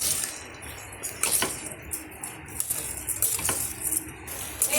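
A spoon scrapes and clinks against a pan while washed rice is stirred and roasted for a quick cowpea rice dish, with short metallic taps recurring through steady scraping and no talk.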